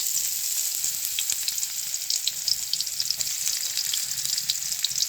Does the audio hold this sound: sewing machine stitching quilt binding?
no